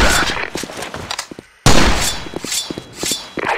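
Video game gunfire crackles in dense, rapid bursts, loud and close, broken by one brief silence before the firing resumes, with voices shouting underneath.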